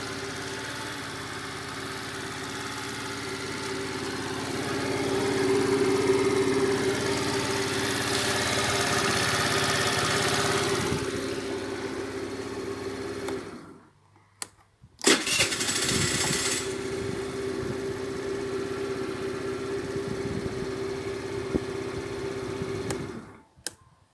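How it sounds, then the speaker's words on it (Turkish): A Falcon Nitro 50 motorcycle engine runs after an oil change, a steady close buzzing drone that cuts out briefly past the midpoint, then restarts and settles back into an even idle. "Motor sessizleşti."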